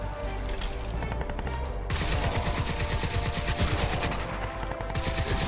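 Sustained automatic gunfire from Crysis 2 rattles on continuously and loudly, with dense rapid shots and no talk.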